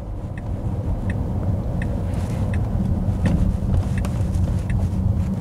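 A Tesla on FSD Beta 10.8 steers itself out onto the road, its low, steady road rumble and cabin hum constant throughout, with faint light ticks over the drone and no one talking.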